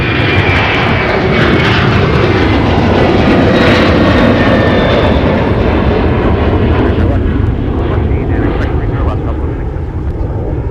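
A Delta airliner departs westbound from a wintry Minneapolis–Saint Paul airport, its jet engines producing a loud, steady, broadband roar that holds strong for the whole stretch, with a faint voice briefly under the engine noise.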